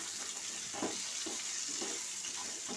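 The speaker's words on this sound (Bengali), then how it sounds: "আলু হলুদ গুঁড়ো আর নুন দিয়ে আলুগুলোকে ভেজে নিচ্ছি" Potatoes fry in a pan with turmeric and salt after fish has been cooked in it, a constant bright sizzle with a few soft stirring knocks.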